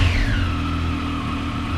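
A Triumph Street Triple R motorcycle engine whirs at steady revs nearby, its pitch sliding down smoothly as it settles, loud and continuous.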